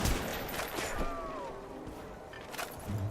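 Gunfire in Call of Duty Black Ops zombies, Call of the Dead map, from an M14 rifle: a loud, dense clatter of shots and game noise that fills the clip up close, with no clear voices.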